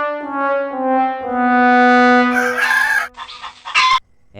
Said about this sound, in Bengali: এই মেয়ে, ওই মোরগটা কাররা?